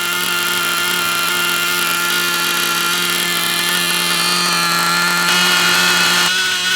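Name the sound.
Novarossi .28 nitro engine running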